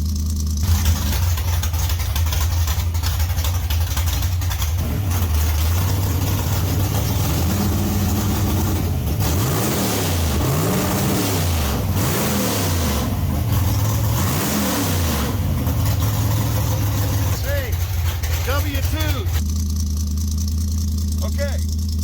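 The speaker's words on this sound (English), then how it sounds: "Alrighty, so Dart is warming up." A Dodge Dart with a 273 engine idles while warming up, a loud, steady low rumble with a few revs swelling through the middle, and voices are heard talking over it.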